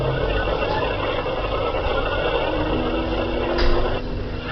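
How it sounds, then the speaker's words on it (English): A first-generation switched reluctance motor runs with a harsh, steady broadband drone and a whining tone that swells briefly near the end, loud and continuous with no voices. "The sound you just heard is from the first generation of these motors."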